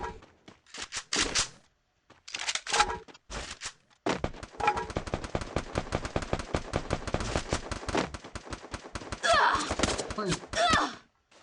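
Gunfire in the mobile shooter Free Fire comes in rapid automatic bursts and scattered single shots, fairly close, with excited talking between and over the volleys.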